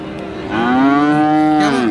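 A cow at Raniganj cattle market in Dinajpur, where Friesian and crossbred cattle are sold, lets out one loud, close, drawn-out moo rising in the middle and lasting over a second, with no talking over it.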